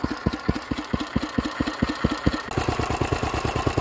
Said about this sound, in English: the Lister D did just about breathe into life